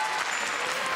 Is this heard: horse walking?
no